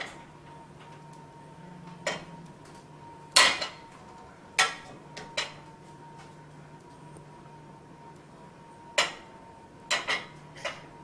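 Utensils clinking and tapping against a plate while tilapia and coconut jollof rice are served, with scattered sharp knocks spread irregularly over a quiet kitchen hum.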